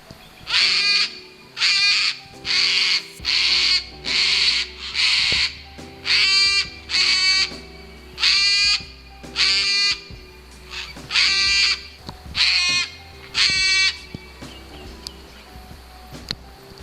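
Cockatoos give a dozen loud, harsh screeching cries in a fairly regular series, each about half a second long, close and clear over quiet bush.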